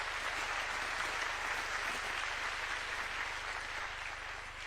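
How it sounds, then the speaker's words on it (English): An audience at a summit gathering of heads of state and business leaders gives steady, dense applause that fills the whole stretch. It carries on without a break and fades slightly at the end. "Please give yourselves a round of applause."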